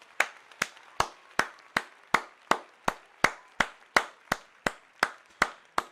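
Hand clapping sounds as a slow, even series of about fifteen sharp, separate claps, close and distinct, each with a short ringing tail, with no other sound between them.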